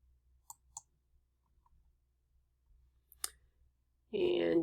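A few sharp, quiet computer mouse clicks sound in a near-silent room, spaced apart, followed by a burst of louder noise at the end.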